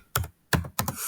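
Computer keyboard being typed on, three quick close clusters of sharp clicky keystrokes with short pauses between, loud against a quiet room.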